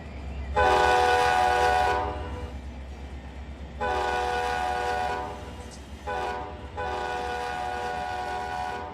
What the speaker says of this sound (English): Whistle kind of sounds like one of these little whiny little passenger car trains too